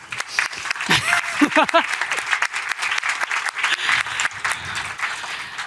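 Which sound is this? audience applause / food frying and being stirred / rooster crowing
audience applause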